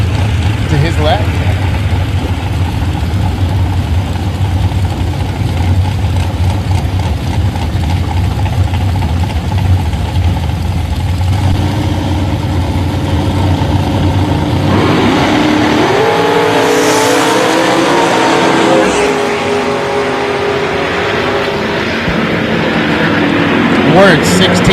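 Drag racing cars at a Woodburn, Oregon event hold a steady, loud engine drone at the line, then one launches with a rising, revving roar down the track; a public-address voice talks over the noise.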